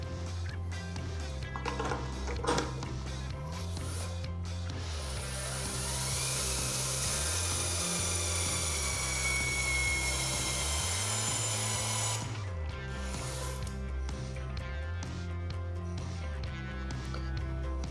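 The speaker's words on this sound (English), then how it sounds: "I've set the tool to 120 degrees, which is the correct rotation for this 1-inch bolt by 3 inches long" A power tool runs a long steady whirring drive as it turns a 1-inch by 3-inch structural bolt 120 degrees for turn-of-nut pretension testing, its pitch cycling rhythmically with a shrill rise partway through, loud and close with no talk.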